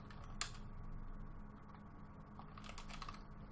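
Quick bursts of computer keyboard typing, close and fairly quiet, a short flurry at the start and another near the end over a low steady room hum.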